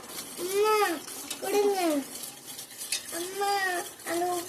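Egg mixture being stirred in a bowl for a bread egg toast snack: a spoon scrapes in four separate strokes, each with a rising and falling squeaky, whistling tone, spaced by short pauses.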